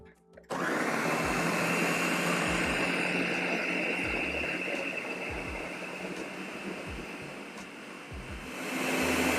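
A blender runs loudly and continuously, pureeing creamy mushroom soup, starting abruptly with a strong motor whine that dips slightly and then rises again near the end, close by.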